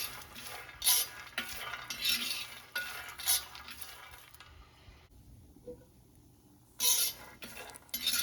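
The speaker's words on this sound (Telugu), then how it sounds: "అవి బాగా వేయించుకోవాలి." Peanuts, with garlic cloves and green chillies, dry-roasting in a pan, repeated close metallic clinks and rattling scrapes of a stirring spoon in bursts, with a quieter pause in the middle.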